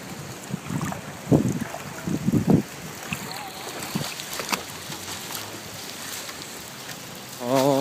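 Flooding water from a drainage pipe and wind-driven rain on a street in Downingtown hours before Hurricane Sandy, a steady rushing wash with wind buffeting the microphone and a few louder gusts and splashes.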